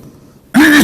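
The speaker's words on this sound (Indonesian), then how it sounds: "Agak batuk saya sedikit." One loud, close throat clearing bursts in from a man during a religious lecture, a short harsh cough-like rasp after a moment of near silence.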